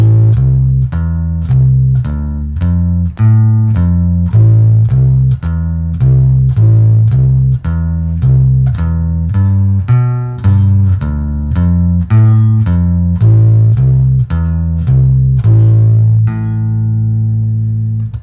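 An electric bass plays metal-style 1-3-5-3 arpeggios in a blues setting, a loud, steady run of plucked notes that ends on a sustained final note, with no talking.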